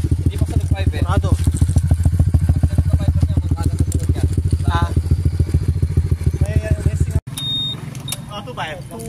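Winner X 150 motorcycle fitted with an Espada exhaust pipe revving hard in rapid, rhythmic bursts, loud and close, then cutting abruptly to a lower idle with faint beeps.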